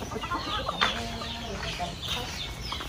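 Rhode Island chickens clucking steadily at a poultry farm, a dense busy chorus of many birds close by, with a few sharper calls over the constant flock noise and faint voices mixed in.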